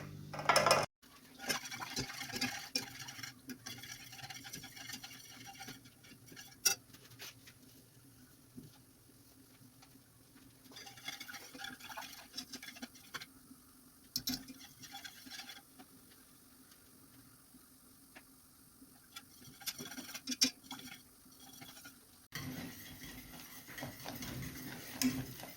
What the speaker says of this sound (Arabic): غنستمر في التخليط ديالو حتى يبدا يعقد.